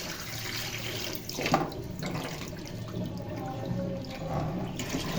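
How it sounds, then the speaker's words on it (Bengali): Raw hilsa fish are rinsed under a running kitchen tap, a steady close rush of water with splashing surges as the fish are turned and handled. "এখন মাছগুলো ধুয়ে নিচ্ছি।"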